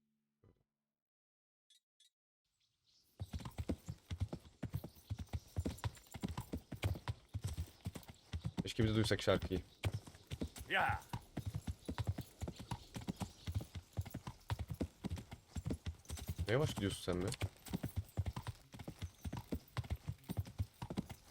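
A horse's hooves clip-clop in a steady rhythmic trot across ground in Kingdom Come: Deliverance, with an occasional whinny, and people chat over the hoofbeats after a quiet start.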